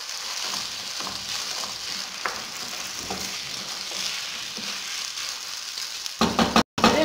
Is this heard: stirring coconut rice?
yes